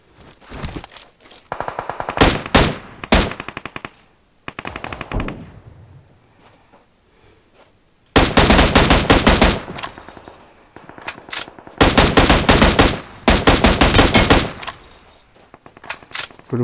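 Automatic weapon fire in the PUBG video game on the Miramar map, loud rapid bursts of gunshots separated by quiet gaps, with several long sustained volleys in the second half.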